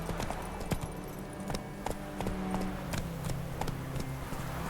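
A horse galloping in The Witcher 3, with quick, steady hoofbeats drumming over a dense rumbling background, moderately loud and continuous, and no talking.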